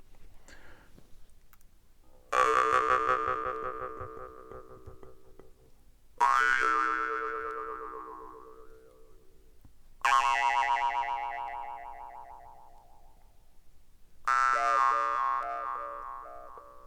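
A Yakut khomus, a metal jaw harp, is plucked four times at spaced intervals, each twang ringing out with a bright, buzzing tone and long sustain that slowly fades before the next strike, heard close and alone.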